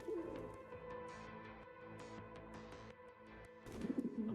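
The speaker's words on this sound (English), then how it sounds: "A bird." Soft cooing bird calls, dove-like, rising twice over a steady hum of computer fans and faint game sounds, fairly quiet and at a distance.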